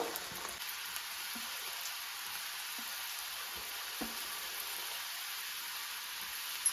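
Food sizzles steadily in a small pan over low heat, a dense even hiss broken by soft faint clicks and taps as pieces are dropped in one after another.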